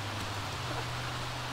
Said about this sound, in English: Look, this rain! It's actually acid rain of doom!